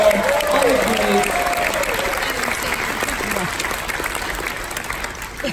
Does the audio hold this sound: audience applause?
yes